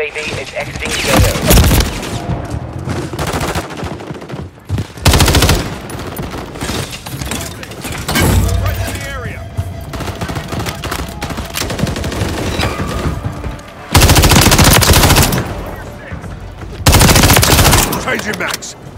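Rapid MTZ-556 rifle fire in the game Modern Warfare III on the map Rust, with loud sustained bursts and sharp gunshots, plus heavier louder bursts near the end, under in-game radio chatter.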